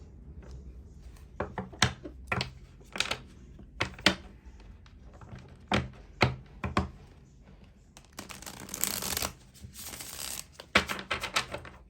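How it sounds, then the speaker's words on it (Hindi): Tarot cards are pulled one by one from a deck in quiet close-up: sharp irregular clicks and flicks of card stock, followed near the end by a brief riffling shuffle. "चलिए इस डेक से भी हम वैसे ही कार्ड्स निकालेंगे, 6 कार्ड्स निकालेंगे।"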